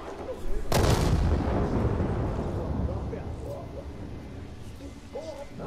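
A bomb detonates in the video game Dying Light 2: Stay Human, a single sudden, heavy blast whose deep rumble decays over several seconds, with a voice talking faintly afterward.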